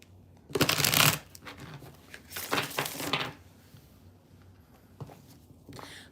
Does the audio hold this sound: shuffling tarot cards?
yes